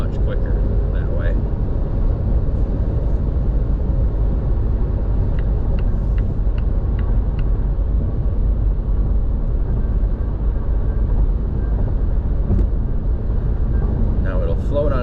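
A 2022 Volvo S60 Recharge T8 R-Design hybrid's petrol engine warms up, producing a steady, continuous low rumble that holds evenly from start to finish.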